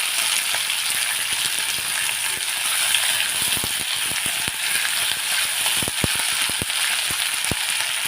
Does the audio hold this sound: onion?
yes